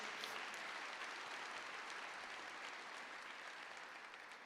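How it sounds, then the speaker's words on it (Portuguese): Sustained applause from a church congregation, a soft, even wash of many hands clapping that stays steady throughout. "Pode aplaudir a Jesus mais uma vez."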